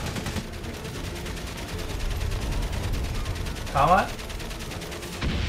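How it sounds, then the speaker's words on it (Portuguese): Enemy machine gun fire in the World War I video game Valiant Hearts, a rapid rattling burst running steadily through the whole stretch amid battle noise, with a short mechanical swell near the end and a voice speaking once. "Meu Deus, metralhadora inimiga."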